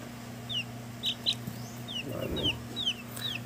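Japanese Shamo Buchiban chickens, imported from Japan, clucking nearby in short soft bursts and brief chirps over a low steady hum, fairly quiet overall.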